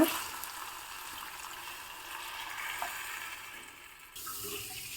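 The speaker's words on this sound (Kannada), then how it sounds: "ಇವಾಗ ಟೊಮೊಟೊ ಚೆನ್ನಾಗಿ ಬಾಡಿದೆ ಇವಾಗ ನೀರನ್ನ ಹಾಕ್ಕೊಳ್ಳೋಣ" Water is poured into a pan of softened cooked tomatoes, giving a continuous rushing, sizzling splash at close range that holds steady for several seconds before easing to a quieter bubbling.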